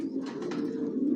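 Adult racing pigeons of a Johnson long-distance line, leg-tagged and vaccinated, coo in a low steady murmur, a continuous close throaty burble with faint chirps above it and no talk.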